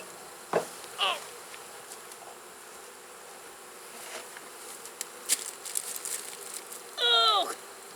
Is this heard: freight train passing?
no